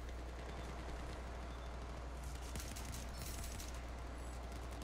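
SKS rifle gunfire in Battlefield 4, a dense quiet barrage of distant shots and battlefield noise running throughout, no voices.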